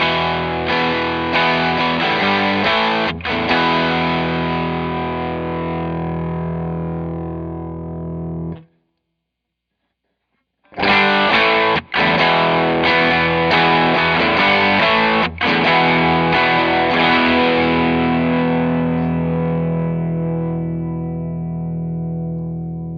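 Electric guitar driven through a Paul C. Audio Tim V3 overdrive pedal on its middle clipping setting, giving a thick, gritty sustained chord passage. It stops briefly in the middle, then resumes loud and close, with no speech.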